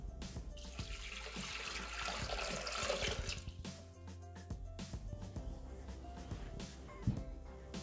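Water poured into a Thermomix bowl holding cinnamon sticks, a steady splashing pour filling the jug at close range, with clinks and small knocks of the container toward the end and no talk.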